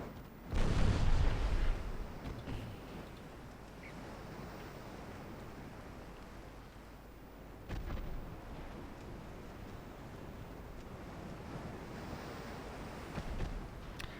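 Naval guns firing from warships in the 1890s-era naval battle game Ultimate Admiral Dreadnoughts: a loud, heavy boom near the start and a second blast midway, both over a steady wash of ocean surf and wind, with no voices.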